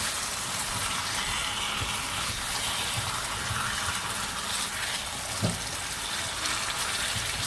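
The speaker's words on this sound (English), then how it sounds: "Add some boiling water, and then we're going to continue cooking" Boiling water pours steadily into a pot of curry beef, a continuous close splashing gush with one small clink partway through.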